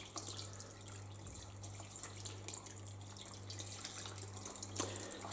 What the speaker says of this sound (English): Finally, our litre of water.